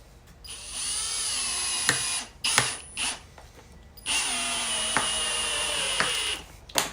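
A power drill drives screws into a wooden gate frame. Two long, steady whirring runs come close and loud, separated by short bursts and clicks, with no talking.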